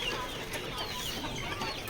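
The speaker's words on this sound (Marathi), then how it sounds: "तुम्ही पाहू शकता आपले कसे नवीन कोंबडे तयार झालेत" Several free-range desi chickens and chicks cluck softly nearby in a busy, continuous chatter, with no one speaking.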